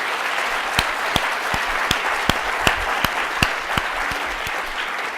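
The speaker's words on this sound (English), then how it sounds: "Let's give them a round of applause." A conference audience applauds the panelists after a health care discussion, a sustained wash of clapping from a moderate-size crowd with a few sharper claps standing out.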